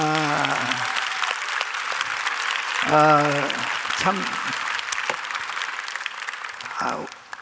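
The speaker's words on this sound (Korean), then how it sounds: "김 장로님께 감사의 박수하겠습니다" Audience applause fills a church hall during a Korean-language intercessory prayer conference, steady and close, with voices speaking and a brief sung or spoken note rising over the clapping.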